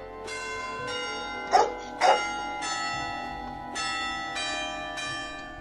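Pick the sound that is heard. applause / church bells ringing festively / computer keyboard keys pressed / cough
church bells ringing festively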